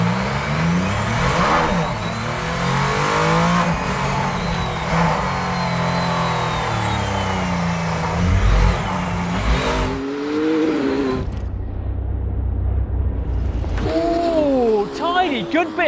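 A car accelerates hard with traction control switched off, its engine revving loud and rising through the gears, then a short lull before a final rev; someone talks over parts of it.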